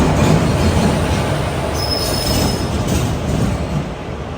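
A passenger train hauled by a WP4 locomotive rumbles past at close range, a dense steady roar of wheels on rail with a thin high squeal appearing midway, no talking.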